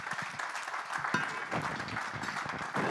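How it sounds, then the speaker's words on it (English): Audience at an edtech investment conference in Madrid applauding panelists, a continuous full crowd clapping with individual claps standing out, close and steady for a few seconds. "big applause for my friends, these guys"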